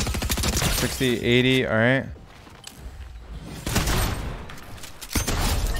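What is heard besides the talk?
gunfire from a gun in a video game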